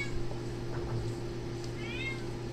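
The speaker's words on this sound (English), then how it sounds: "My cat is yelling at me." A house cat meows loudly and insistently, with several drawn-out, rising and falling cries close to the microphone over a steady low background hum.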